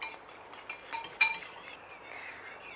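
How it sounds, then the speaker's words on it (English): An egg is whisked by hand in a glass bowl with grated apple for oatmeal cupcake batter, producing a quick run of light, irregular clinks against the glass, close and fairly quiet. "One egg. And at this point of time, give it a whisk."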